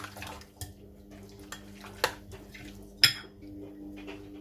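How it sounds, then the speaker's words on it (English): Spoon knocking and scraping against a bowl while a lamb kofta mixture with salt and pepper is stirred and bound together, a few separate clinks over a quiet kitchen hum. "give it a good stir. Bind it all together."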